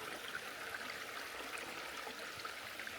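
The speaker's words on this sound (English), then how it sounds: "Creek coming down." A creek flowing beside an Appalachian Trail camp, a steady soft hiss of running water, constant and even, heard alone without voices.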